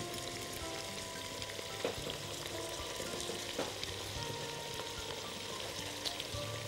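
Sweet peppers sizzle in a hot pan while being cooked for a one-pot shrimp pasta, a steady close crackle that runs unbroken, with a few soft stirring knocks.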